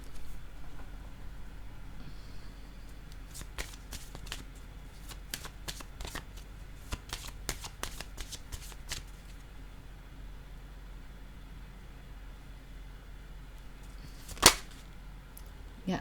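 Tarot cards being shuffled close up, with bursts of crisp riffling and snapping card sounds that come and go over a quiet background, ending in one sharp slap.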